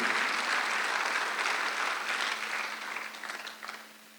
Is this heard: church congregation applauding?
yes